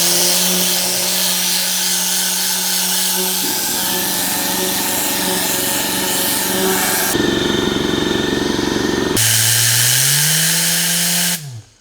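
Tornador compressed-air cleaning tool running loud and continuous with a steady roaring hiss, its pitch shifting in stages, then cutting off abruptly at the end.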